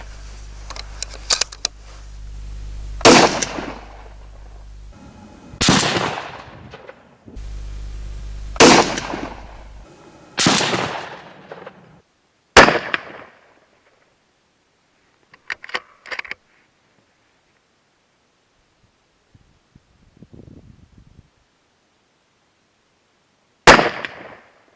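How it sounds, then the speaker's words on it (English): Sharp, loud rifle shots from a Tikka T3 set in an aftermarket chassis, fired one at a time at spaced intervals, each crack trailing a short echo, with quiet gaps between and no talking. "I'm going to fire 5 rounds through"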